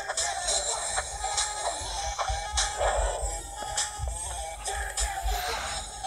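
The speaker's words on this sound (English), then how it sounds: "Hey, stop attacking me, you chickens." Chickens clucking and crowing in a Roblox video game, repeated short calls over a steady low rumble of game background sound.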